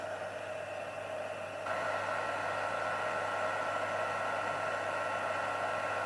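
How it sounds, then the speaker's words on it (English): A heat tool blows hot air to melt embossing powder on a handmade Halloween card, a steady whirring hiss that steps up slightly in level early on and then holds constant, with no talking. "I need to plug in my heat tool to my socket. So I have my heat tool. We're just going to melt that powder."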